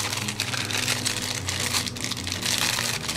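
A plastic bag crinkles continuously as parts of a Porsche Carrera GT Gemballa Mirage model kit are pulled out, a close, busy rustling and crackling that runs with no pauses and no talking.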